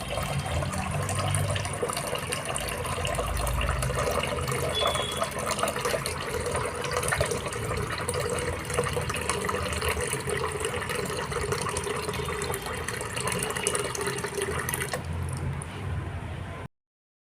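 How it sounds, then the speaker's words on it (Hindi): Water pours steadily into a cooking pot from a tap in a home kitchen ahead of making chowmein, a continuous close gushing fill that stops abruptly at the end. "तो अभी यहाँ पर पानी भर रहा है।"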